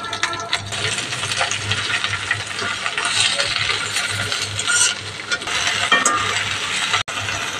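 Prawns with onion, garlic and green leafy vegetables fry in a pan, a continuous close sizzle with clinking and scraping of a spatula against the pan throughout.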